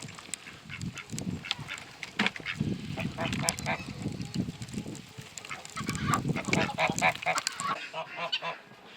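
Ducks and geese on a winter homestead honk and quack in repeated bursts near a water bath, overlapping calls rising and falling with a short quiet gap near the end.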